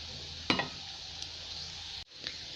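Potatoes and onions crisping in a frying pan with paprika, giving a steady close sizzle with a sharp clatter of stirring near the start, a brief cut to near silence, then the sizzle resuming.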